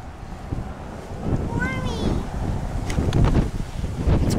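Gusting wind buffets the microphone in a steady roar, with voices and a brief whistle-like sound audible beneath it.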